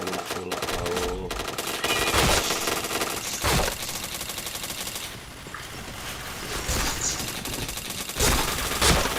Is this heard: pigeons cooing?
no